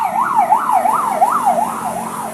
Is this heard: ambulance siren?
yes